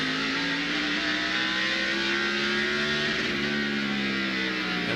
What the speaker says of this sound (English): And we hear the engine misfiring right at the end of the straightaway